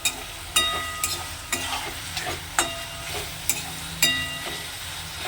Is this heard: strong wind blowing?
no